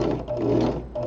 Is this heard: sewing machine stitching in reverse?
yes